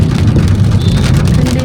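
Rain falling, heard from inside a vehicle as dense, loud, continuous patter on the car with no pauses.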